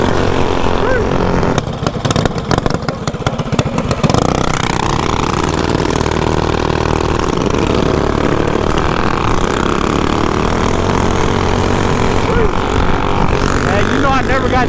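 A propeller airplane drones overhead near Compton Airport, a steady engine hum running throughout with a burst of rattling wind noise early on and people talking nearby.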